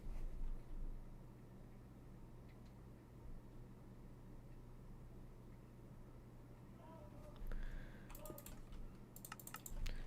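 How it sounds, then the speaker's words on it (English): Keystrokes clatter on a computer keyboard at low level, a soft steady run of clicks that grows into a brisker burst of typing near the end. "I pressed it so hard on my keyboard"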